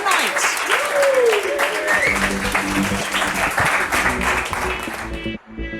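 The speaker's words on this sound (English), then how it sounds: "A huge round of applause to PBH Free Fringe" An audience at an Edinburgh Fringe comedy show claps in loud, sustained applause, with cheers and voices mixed in, and the applause cuts off abruptly near the end.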